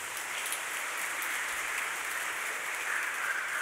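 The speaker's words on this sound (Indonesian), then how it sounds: "Tepuk tangan untuk kita semua." Congregation applauding in a church after Palm Sunday Mass, a dense, steady wash of many hands clapping at once, fairly quiet and diffuse with no separate claps standing out and no voices.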